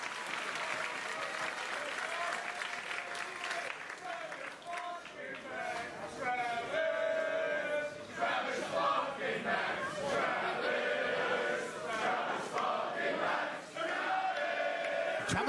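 A wrestling crowd at a PROGRESS match between Travis Banks and Keith Lee, cheering and chanting in rising and falling waves, with a commentator talking over it.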